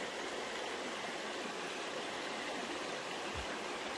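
A river stream runs beside a hiking trail in Austria with a continuous, even rush of water, steady and fairly close, with no voices over it.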